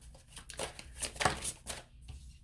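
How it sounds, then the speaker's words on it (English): Tarot cards being shuffled by hand for a pick-a-card reading, a quick series of soft riffling, flicking bursts at close range with no talk. "I'm going to shuffle again."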